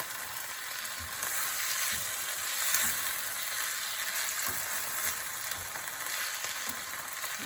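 Taco meat sizzling in a pan for German-style burritos, a steady faint fry with soft intermittent stirring scrapes throughout, no talking.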